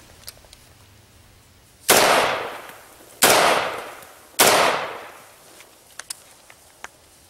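Three loud, sharp rifle shots fired without a suppressor, spaced over a few seconds, each ringing out and decaying, followed by faint clicks and handling noises.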